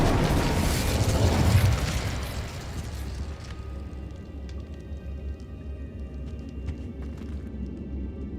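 Incendio fire spell cast in Hogwarts Legacy: a big roaring blast for the first couple of seconds, then a fading crackle and low rumble that lingers with scattered faint clicks.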